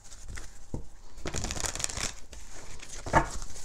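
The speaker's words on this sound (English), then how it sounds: "One more shuffle, please." Tarot cards shuffled by hand in quick, papery bursts of riffling and sliding, close up, with short pauses between passes.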